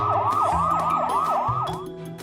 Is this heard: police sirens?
yes